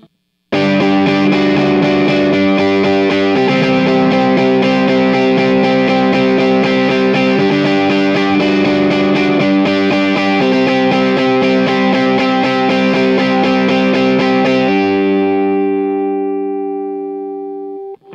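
Electric guitar on its neck humbucker through an Agape Tribute 18 amp with a driven rhythm tone: warm, crunchy sustained chords strummed in a steady pattern, then a final chord left ringing until it fades, with no voice over it.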